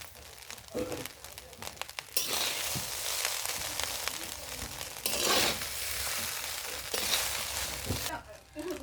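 Rice frying with sugar and salt in a pan at home, a steady loud sizzle with scraping and stirring that surges and fades in waves, with a voice talking at times.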